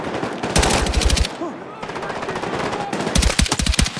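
Heavy automatic gunfire in the Battlefield 6 campaign during a night raid, with two loud, rapid bursts of machine-gun shots separated by a short lull.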